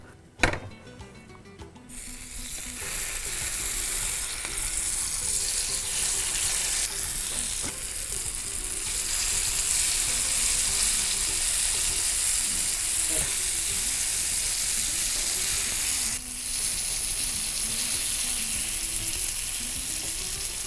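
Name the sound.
elephant foot yam frying in oil in a pan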